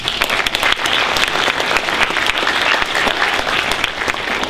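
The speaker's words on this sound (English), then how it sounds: "Let's give them a round of applause." Sustained crowd applause at a summer enrichment presentation, many hands clapping evenly and loudly for several seconds without pause.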